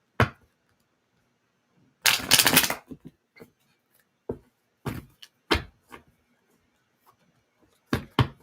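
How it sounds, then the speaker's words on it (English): Tarot cards being shuffled in several short riffling bursts with pauses between, the longest and loudest burst early on, close and with no talking. "As I shuffle these cards for good measure to get them cleared."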